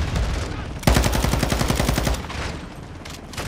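Rapid automatic gunfire in Call of Duty: Modern Warfare II, a loud burst of about a second and a half of fast repeating shots over game ambience, then fading back to background sound.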